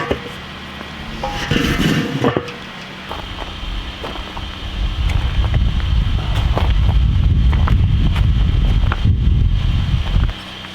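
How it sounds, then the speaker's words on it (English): Gusty wind on a nasty, blustery day in Alaska buffets the microphone with loud, low rumbling roars that swell and ease over several seconds, with rustling and faint background noise in between. "It was kind of a nasty, blustery day, as you can see right now."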